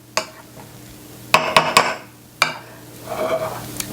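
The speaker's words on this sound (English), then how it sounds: "I'm just going to mash this up to a good consistency" Potatoes being mashed with evaporated milk, parsley and garlic powder for a cowboy meatloaf and potato casserole, heard as a few sharp clanks and thumps of a masher against a pot, then softer squishing scrapes, close and without talk.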